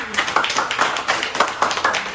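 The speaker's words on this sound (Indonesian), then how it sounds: "tepuk tangan untuk kita semua" Hands clapping in a church congregation, a dense patter of many people applauding together, close and fairly loud for a couple of seconds.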